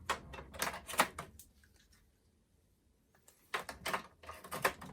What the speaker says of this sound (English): the controls could be put in like so. And the memory cards.